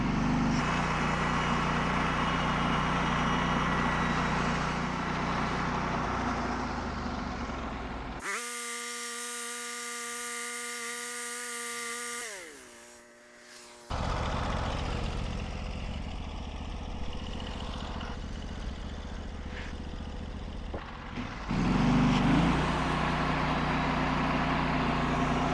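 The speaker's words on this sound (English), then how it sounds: "we're going to go ahead and start cutting with one of the sharpened blades that I already installed" Sawmill with a freshly sharpened blade cutting boards in a shop build, a loud continuous engine and blade drone that steps to a steady whining tone midway, then returns to a rough running roar.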